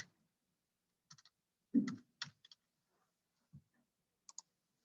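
Sparse keyboard clicks from typing a plant description, such as a leaf colour, into a plant identification search, arriving in a few short bursts with a soft thump near the middle and a clear pause between groups.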